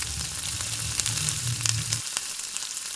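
Palm fruit fritters (taler bora) fry in hot oil, a loud close sizzle that carries on as a lower bubbling rumble fades out partway.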